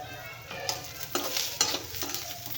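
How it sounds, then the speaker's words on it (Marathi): Sesame seeds roast in a hot pan while being stirred, giving a soft continuous sizzle broken by scraping strokes. It is close and steady, with no talking. "तर तीळ पण छान भाजून घेऊया"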